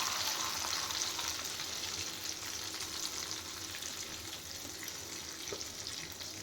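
Two medium sliced onions fry in oil, a faint but steady sizzling hiss that stays even throughout with no other sounds.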